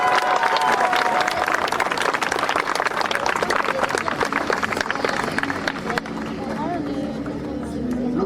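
A speedway crowd at Miramont-de-Guyenne in France claps hard after a race, a dense burst of applause and cheering that thins toward the end, with a voice talking over it.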